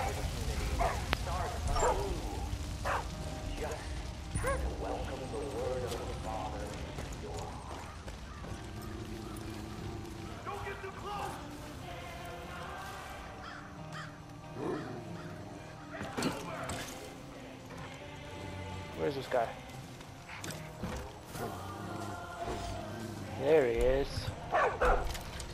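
A dog barks in Far Cry 5, with several short bow-wow barks scattered through a busy mix of game sounds, music and speech.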